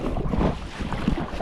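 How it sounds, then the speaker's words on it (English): Rough, gusty wind buffets the microphone out on open water during a kayak paddle, a dense low roar with faint sloshing beneath it, brief and close. "wind has been fairly rough today at times"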